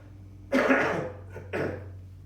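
Two coughs, the first strong and rough, the second shorter, over a steady low hum with no talking.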